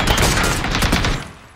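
Rapid burst of automatic gunfire in the battle-royale video game PUBG, loud and dense shots fired in quick succession before fading out.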